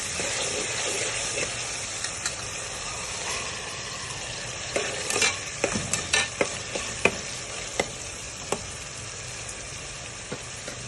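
Ginger-garlic paste and tomatoes fry in a pan with a steady close sizzle, while scattered scrapes and taps of stirring grow more frequent through the middle and end.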